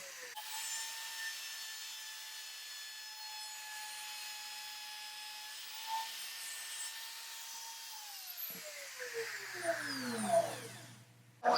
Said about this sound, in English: I switched to a straight bit to cut the dados for each shelf